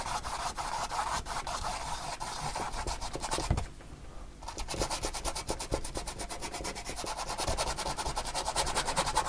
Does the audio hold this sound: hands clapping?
no